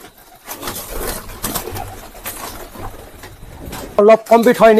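Pigeons of the Kalanka breed coo in a few throaty bursts near the end, following a stretch of someone talking loudly close by.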